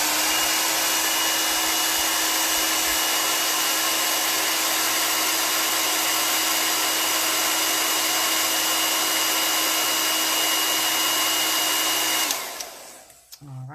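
A blow dryer drying chalk paste on a bunny design, a loud, steady whirring blast running continuously up close before clicking off near the end.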